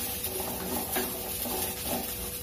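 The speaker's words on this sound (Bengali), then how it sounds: "এখন আমি পুরো লোয়েতে দিয়ে এটাকে ভেজে নিচ্ছি।" Yardlong beans fry in a pan over low flame, a constant close sizzle with soft stirring scrapes and no talk.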